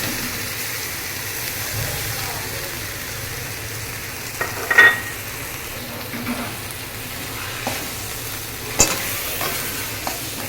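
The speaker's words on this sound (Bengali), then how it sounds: "এবারে আমি এই ডালটা দিয়ে দেবো।" Dal is stirred into sizzling spice masala for a vegetarian dhokar dalna, with a soft continuous fry punctuated by scattered spoon scrapes and clinks against the pot.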